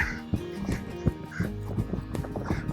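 Rhythmic hoofbeats thud in a rolling three-beat pattern, close by, over a faint wash of background noise.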